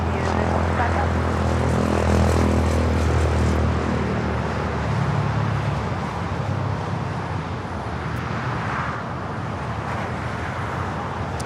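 An airplane at LAX airport roars loudly and continuously as it passes, a broad engine rumble with distant traffic hum beneath, while a voice speaks faintly at times.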